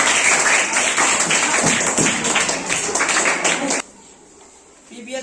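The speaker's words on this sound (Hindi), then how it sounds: "ठीक है, तालियां इस ग्रुप के लिए।" A class of seventh-grade students applauds a student group after its presentation of a guide about soil, with dense clapping filling the room for almost four seconds before it stops abruptly and fades to quiet.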